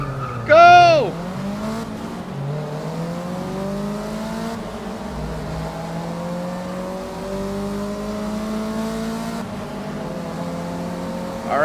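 Racing cars in Forza Motorsport 6, including JDM icons and a Nissan Silvia, roar along with engine notes climbing and holding steady through gear changes. A brief sharp squeal near the start rises over the cars, and someone talks throughout.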